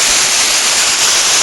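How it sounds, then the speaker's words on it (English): Small waterfalls over shale in the Niagara Gorge give a loud, steady, broadband rush of falling water that fills the scene close by, with no voices. "makes for some interesting little waterfalls."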